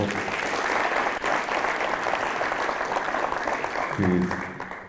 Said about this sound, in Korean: 제가 인사하면 이렇게 박수 쳐주시면 되는 겁니다